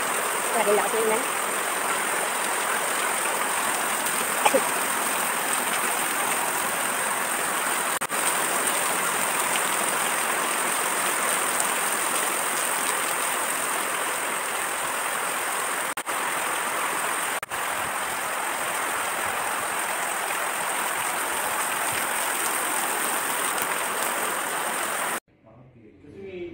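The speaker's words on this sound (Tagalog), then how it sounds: "Grabe lakas ng ulan." Heavy rain pours down steadily and loudly for the whole stretch as a dense, unbroken hiss, then stops abruptly near the end.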